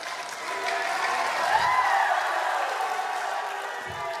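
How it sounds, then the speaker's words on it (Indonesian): Audience applause rings out for the candidates at a public election debate, a steady wash of clapping from a crowd in a hall that holds evenly for several seconds without fading. "kita kasih aplaus yang luar biasa kepada semua paslon kita pada malam hari ini"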